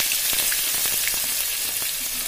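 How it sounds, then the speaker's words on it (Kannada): Onions frying in a pan with a bay leaf, giving a dense, bright, constant sizzle with small crackles and pops spread across it. "ಈರುಳ್ಳಿ ಚೆನ್ನಾಗಿ ಫ್ರೈ ಆಗಬೇಕು"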